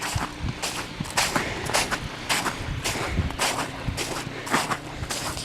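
A neighbor's snow blower engine drones steadily nearby while clearing a driveway, a continuous rough mechanical hum with irregular crunchy bursts and rustling footsteps close by.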